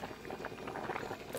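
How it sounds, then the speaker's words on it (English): Pasta water boiling in a pot on a home stove, a steady close bubbling and rumbling wash that runs without pause for the whole stretch, with no talk over it. "I feel like I shouldn't be letting it boil like this anymore."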